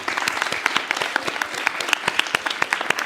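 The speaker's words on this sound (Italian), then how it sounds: "Un applauso a Luca Antonello" Steady applause from an audience at an Italian evening event, many hands clapping in a brisk, continuous patter of sharp claps at moderate volume throughout.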